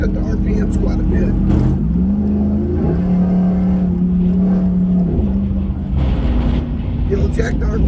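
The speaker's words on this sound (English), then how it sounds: "if I go four-wheel low, I can tell because it jacks up the RPMs quite a bit" A pickup truck engine revs in four-wheel low, a steady droning hum that climbs in pitch, holds, then eases back, heard from inside the cab with a person talking over it.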